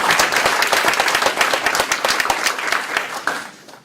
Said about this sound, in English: So can we give one more round of applause to Elizabeth Hoffman?